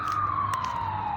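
A wailing emergency siren sweeps steadily, loud and continuous, with a low rumble of traffic underneath.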